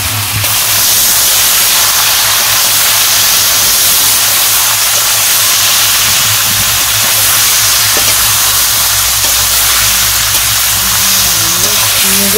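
Spiced meat sizzling and hissing steadily as it is braised in a pan in a village-style kitchen, a continuous broad frying hiss with faint voices now and then in the background.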